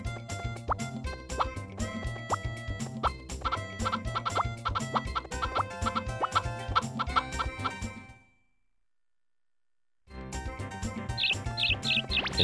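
Chickens in the farming video game Harvest Moon 64, with repeated game clucks and plopping chirps over continuous game music, then a two-second silence before the sounds resume.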